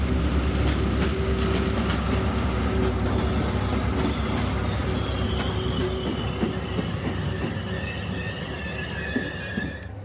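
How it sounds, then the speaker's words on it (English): The Caledonian Sleeper train rumbles past close by on the West Highland Line, with heavy low roar, clattering wheels and high metallic squeals toward the end; no one speaks. "just waiting for the Caledonian Sleeper to come through before we proceed forward"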